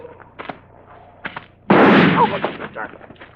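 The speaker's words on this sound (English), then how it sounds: "I shot him in the back of the head" A single loud gunshot in a radio drama bursts out sharply after a few faint knocks and movements, then trails off in a rough, echoing decay.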